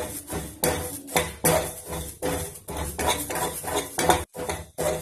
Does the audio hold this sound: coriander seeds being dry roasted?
yes